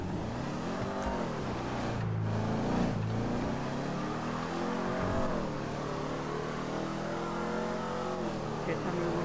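Revving car engine with exhaust in GTA 5 Online, rising and falling in pitch through several surges, loud and close, with someone talking over it at times.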